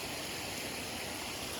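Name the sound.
creek water flowing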